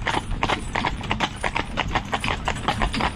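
Horse hooves clip-clop in a steady, fairly close rhythm of sharp knocks on the ground, with a faint voice in the background.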